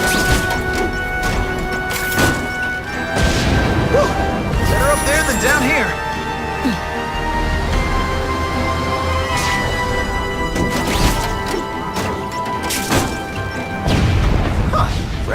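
Explosions in The Amazing Spider-Man 2 video game boom and crash several times over continuous game noise, with voices talking throughout.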